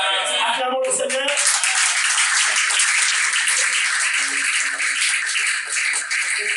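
A church congregation at a fasting and prayer service applauding the Lord, sustained rhythmic clapping from many hands with voices calling out, after a brief spoken phrase at the start.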